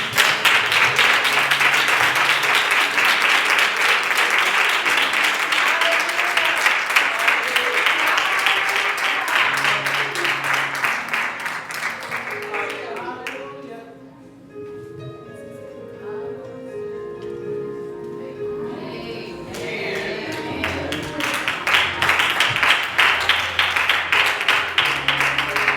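A church congregation claps loudly during a Wednesday worship service. The dense applause is sustained, thins briefly midway, then swells back to full strength, with some voices mixed in.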